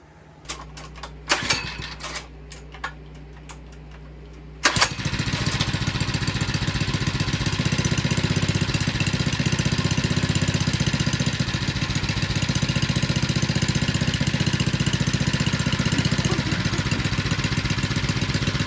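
A 97cc gas scooter engine sputters, then catches at about five seconds and runs steadily at a fast, buzzing idle, loud and close, continuing to the end.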